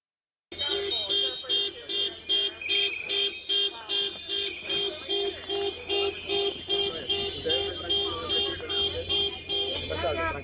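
Car horns honking in protest, sounding as a loud, steady run of repeated blasts in a regular pulsing rhythm for about ten seconds, with faint background noise.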